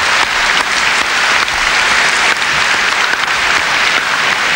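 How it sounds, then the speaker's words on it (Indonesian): Steady, dense applause from a live concert crowd at a 1993 show by a Malaysian singer fills the room, continuous and loud without a break. "Satu tepukan untuk Hatan"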